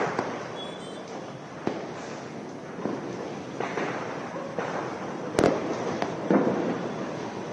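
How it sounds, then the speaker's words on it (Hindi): Firecrackers bursting at a Diwali celebration, a series of sharp distant bangs and crackles scattered irregularly over a continuous background hiss of more fireworks. "पटाखे फोड़कर दिवाली मनाई"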